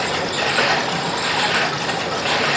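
Brunswick A/A2 bowling pinsetter running with its mechanism engaged, a loud, dense, continuous clatter of rattling gears and chains heard up close with no pauses.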